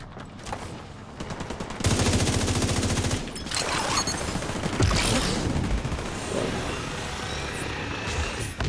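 Bombs and machine-gun fire erupt in a video game, with rapid bursts of shots and heavy explosive blasts packed densely together, loud and chaotic for several seconds before settling into rumbling fire.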